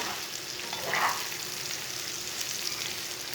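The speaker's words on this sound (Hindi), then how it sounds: "अब तोरी को 5 मिनट तक भून लेंगे।" Ridge gourd (tori) fries with lightly browned onions in a pan, giving a steady, close sizzle. A brief brighter burst near the start suggests the pieces being moved, with no voices.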